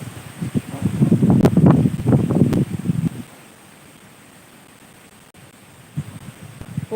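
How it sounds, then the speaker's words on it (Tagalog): Strong wind outdoors buffets the microphone in loud gusting rumbles for about three seconds, then drops to a quiet background hush with a few faint gusts near the end. "Hala, grabe yung hangin."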